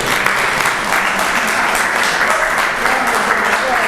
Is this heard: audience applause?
yes